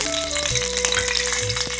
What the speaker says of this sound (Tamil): கடாய் சூடு எரிச்சு கொஞ்சம் நெய் விடுறேன்